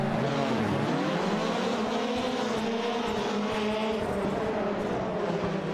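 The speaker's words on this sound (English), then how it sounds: "engines revving, lights illuminate." Rallycross race cars on the Iowa grid in iRacing rev their engines together at the start, a loud continuous roar with pitch climbing and wavering as the revs build, with no voices.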